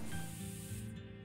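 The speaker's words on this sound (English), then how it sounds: "So if we get some stuff in here, I guess I could do spray paint mode." Spray paint hisses in the painting video game Passpartout: The Starving Artist, a steady close airy spray with faint rubbing texture that cuts off abruptly near the end, with no voices.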